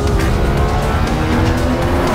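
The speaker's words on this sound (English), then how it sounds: "Sounds matched to virtual engine RPM and motor torque for each gear are played both inside and outside the vehicle" The Hyundai IONIQ 6 N plays a synthetic virtual engine sound during an N e-Shift gear change. A loud, continuous, engine-like roar runs close and steady for about two seconds, with no voices.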